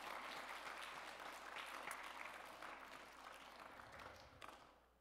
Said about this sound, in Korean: 박수로 크게 찬양하도록 하겠습니다